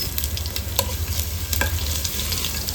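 Crushed garlic fries in hot oil for raw mango rasam, giving a steady bubbling sizzle with light clicks of stirring throughout.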